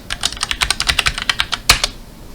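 Password typed on a computer keyboard: a quick, steady run of close, crisp keystrokes with no talking, ending with one sharper, louder key press.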